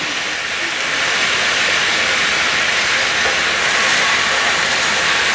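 Food for a baked spaghetti casserole browns in a pan with a steady, loud, broad hiss and sizzle that holds evenly throughout, without voices.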